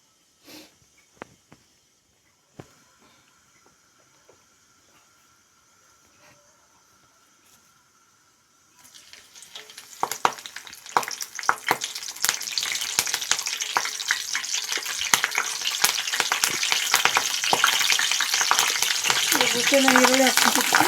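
Cumin seeds hit hot oil and crackle, starting after a quiet stretch with a few faint clicks, then building into dense, continuous close-up popping and sizzling that grows louder toward the end.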